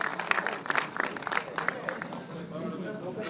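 Audience applause at a felicitation during a national convention of a digital media journalists' association, a dense, steady patter of many hands clapping throughout with voices mixed in.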